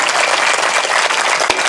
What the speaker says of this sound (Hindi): तालियों से अपने सौभाग्य के लिए।